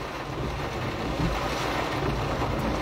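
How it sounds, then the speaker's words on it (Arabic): Strong wind with heavy rain sweeps over the Loukkos area near Larache, a steady, loud broadband roar of gusts and downpour with no pauses and no talk. "رياح قوية"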